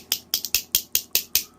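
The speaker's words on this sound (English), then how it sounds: "some fucking clacker spoons" Clacker spoons struck in a steady run of seven sharp, bright clicks about a fifth of a second apart, close and fairly loud, with nothing else playing.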